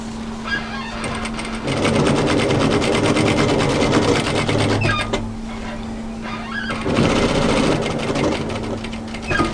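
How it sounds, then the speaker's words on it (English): A domestic sewing machine stitches a hooded A-line jacket in two bursts of steady, rapid needle clatter, with a pause between them for lifting the foot and pivoting the fabric. "I'm just going to stop past that line of stitching there with my needle down, lift, turn and pivot."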